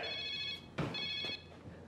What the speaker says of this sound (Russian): у него зазвонил телефон